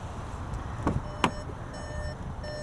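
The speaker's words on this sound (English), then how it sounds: "Does not like its front door being opened while the car is running." A 2021 Volkswagen Arteon SEL Premium R-Line sounds its door-open warning chime with the engine running: faint, repeated electronic tones over a quiet idle, with a couple of soft thumps.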